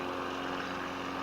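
Cessna propeller plane engine droning steadily in flight, a continuous close, even hum with no voices.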